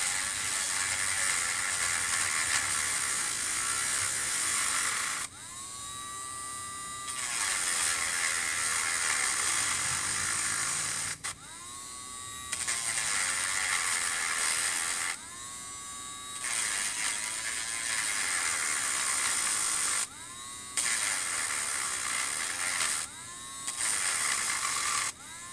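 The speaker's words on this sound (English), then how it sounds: "Simply take the Dremel and run it along the sides of the plugs until you create a groove." A Dremel rotary tool grinds grooves into the sides of wooden plugs, a steady high whine broken by several short pauses where the pitch sweeps up and down as it spins up and down.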